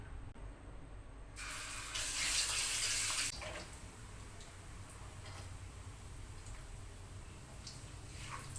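Hands washed under a running kitchen tap while preparing a bihun risol filling: a loud, close hiss of flowing water lasting about two seconds, then fading to quiet background with faint drips, no talking.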